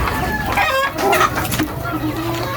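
A hen clucks repeatedly at close range, joined by other chickens in a backyard coop where eggs are laid, with steady short calls and a few louder squawks over a continuous background.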